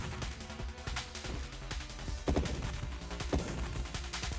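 Rapid bursts of dart fire from a ship in the space shooter Nova Drift, dense rattling volleys with sharper louder impacts midway, layered over game music and effects, no talking.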